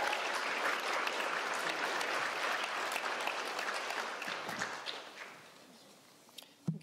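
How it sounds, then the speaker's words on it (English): An audience claps for graduates at a radiography pinning ceremony, a dense, fairly distant round of applause that slowly fades and trails off into a few scattered claps. "Give them a round of applause."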